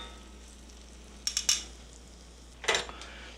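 Garlic sizzles in melted butter for chicken tetrazzini, a soft steady fry broken by a few short utensil clinks and stirring scrapes, heard close and quiet.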